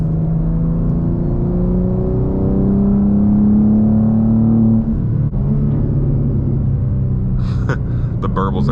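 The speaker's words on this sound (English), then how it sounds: "So if you like burbles, you're gonna love this exhaust." A BMW M2 (G87) engine with a single-midpipe exhaust rumbles and revs up steadily, then eases off into a string of sharp exhaust pops and crackles near the end.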